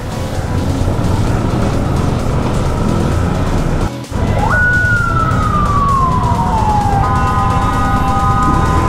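A police vehicle siren sounds in a road tunnel busy with motorcycles, a single loud rising wail that sweeps down slowly, heard over heavy, constant traffic and engine noise.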